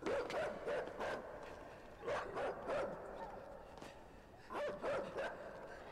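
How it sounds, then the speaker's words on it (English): A dog barks in bursts while chasing someone in the game Inside, clusters of several sharp barks repeating at mid distance with some whimpering between. "the dog's still coming."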